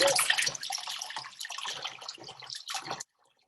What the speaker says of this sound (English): I'm just going to wash my hands and just washing my hands.